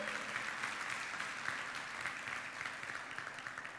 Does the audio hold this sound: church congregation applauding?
yes